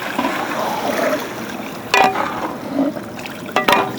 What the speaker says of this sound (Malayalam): കുറച്ച് മസാലയ്ക്ക് കുറച്ച് വെള്ളം കയറ്റി കേട്ടോ